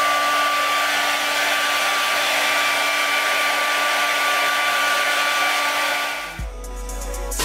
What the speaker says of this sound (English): it is time to blow dry it. Diffuser attached to it.